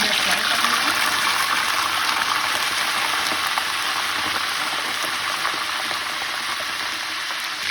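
Cold chicken hits hot ghee in a pan and sizzles loudly, a dense steady hiss of frying that holds without pause.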